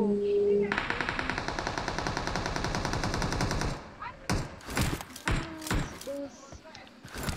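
Automatic gunfire in PUBG on the Livik map, a long rapid burst of evenly spaced shots for several seconds, loud and close, then a few separate heavy thuds while players talk.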